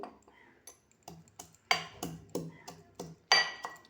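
Garlic cloves and green chillies pounded in a mortar, giving a steady run of sharp, close knocks roughly three a second, a few landing harder than the rest, with quiet gaps between strikes.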